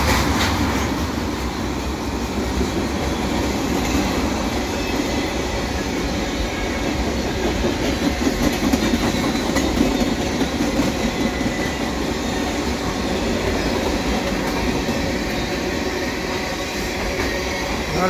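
A CN mixed freight train with many tank cars passes Cedar Park station in Montreal: a steady, loud rolling rumble with rhythmic wheel clatter and faint squeal, continuous throughout.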